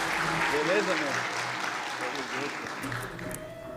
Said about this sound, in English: round of applause to Hector.